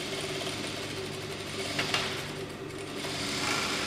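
A sewing machine runs a straight stitch on woven fabric, a steady continuous mechanical whir with a fine regular rhythm of needle strokes, close and fairly loud, with no talk.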